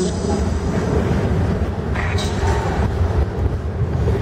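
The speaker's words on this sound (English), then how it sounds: "i'm sitting right up under a train" A train rumbles loudly overhead on a railway bridge, heard from directly underneath: a constant heavy roar with low clatter that holds for the whole stretch.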